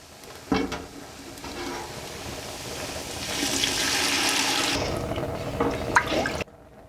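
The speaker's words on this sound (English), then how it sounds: "5 cups of beef broth, and you're just gonna add that straight into the pan" Five cups of beef broth pour straight into a pan for French onion soup, a steady rushing splash of liquid that swells midway and cuts off abruptly near the end, heard close with no talking.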